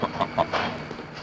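A goose honks in a 1950s air travel film, several short, nasal calls in quick succession, moderately close, over a dense background of music or noise.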